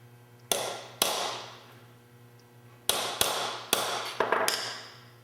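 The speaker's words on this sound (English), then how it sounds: "you'll want to put a dimple in the center of the annealed part with a round nose punch" A round nose punch is struck with a hammer into an annealed metal disc resting on a small wood block, giving about eight sharp metallic taps that ring out briefly, spaced irregularly, some in quick pairs.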